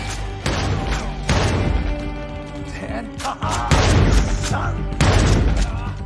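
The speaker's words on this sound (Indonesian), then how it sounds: "dari atas gedung, ayah dan saudaranya membantu Menzel dengan menembaki Julian dan anak buahnya" Gunfire rings out in an action scene from the film Nobody, with repeated loud shots and bursts of blasts that echo amid crashing impacts.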